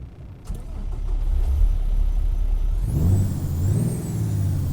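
A Kenworth W900 truck with an ISX15 engine in American Truck Simulator idles with a low rumble, then revs up loudly around the third second, its pitch rising and falling as the throttle swings, close and steady with no talk.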